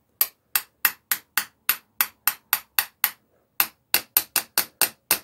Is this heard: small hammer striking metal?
yes